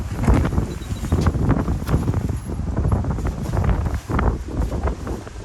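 Wind blowing outdoors against the microphone during a pop-up camper setup, with loud, uneven gusty rumbles and thumps throughout.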